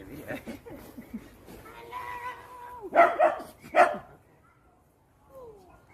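A dog barks and yips in a few sharp bursts at moderate distance, clustered mid-way, followed by a brief softer whine, with faint background voices early on.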